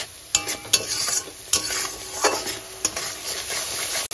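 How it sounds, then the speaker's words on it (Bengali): Kashmiri chili powder spice paste being stirred and fried on a low flame for a curd-and-poppy-seed pabda fish dish: repeated scraping stirring strokes against the pan over a soft, steady sizzle, with no talking. "লো ফ্লেমেই ভালো করে এইভাবে মশলাটাকে কষে নেব 1 থেকে 2 মিনিট"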